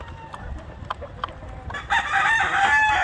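Chickens cluck and a rooster crows on a farm raising Black Australorp and White Leghorn crosses. Scattered clucks come first, then a loud, sustained crow rises near the end, with no talking.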